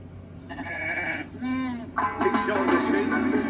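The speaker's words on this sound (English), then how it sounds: "It's Shaun the Sheep" Bleating sheep from a Shaun the Sheep animated trailer, several short wavering calls in quick succession over steady background music.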